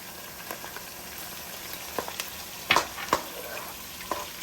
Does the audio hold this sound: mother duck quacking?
no